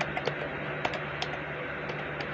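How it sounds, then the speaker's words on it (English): Fingers tap steadily on a computer keyboard while typing a bot command, with soft, close, quick key clicks over a constant background hiss. "I'm not used to typing on keyboard"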